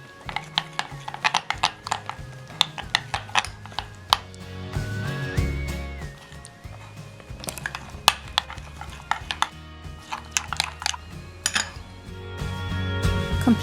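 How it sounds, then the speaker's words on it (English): A spoon stirs chocolate melting in a bowl, making repeated clinks and scrapes against the bowl in an uneven rhythm over a faint steady background, with no talk. "Stir well."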